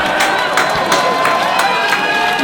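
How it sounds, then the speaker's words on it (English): A crowd at a UK battle rap between Shuffle-T and Shotty Horroh claps and cheers in a dense, continuous wash of noise, with voices mixed into the roar. "I'm guessing that he's right, otherwise people wouldn't be clapping"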